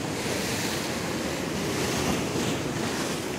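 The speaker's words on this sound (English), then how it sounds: "The ocean continues to eat the sand and the" Ocean waves during a king tide on Rosarito Beach, Mexico, a loud, continuous wash of surf with wind noise, steady throughout and without talk.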